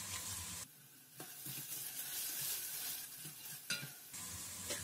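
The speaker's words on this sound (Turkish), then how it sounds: "Havuçları da yağda şöyle biraz çevirdikten sonra" Diced carrots and red peppers sizzling in hot oil, with a steady frying hiss and occasional stirring scrapes and clatters.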